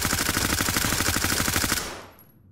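Rapid automatic gunfire from the tactical shooter Ready Or Not, a loud, dense burst of rounds firing in quick rhythm for nearly two seconds before cutting off into a brief fading tail.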